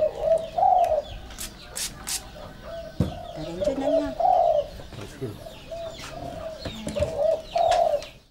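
Repeated soft, low cooing phrases from a spotted dove, several calls spaced across the clip, with other bird chirps and a bit of background noise.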